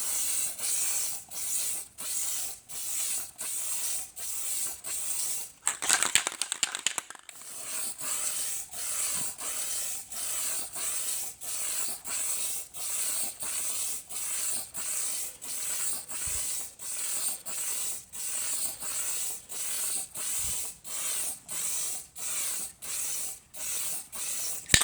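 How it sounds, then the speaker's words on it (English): An aerosol can of metallic spray paint hisses in steady short bursts, repeated rhythmically with brief pauses between each spray, close up and fairly loud. "we'll just spray that on"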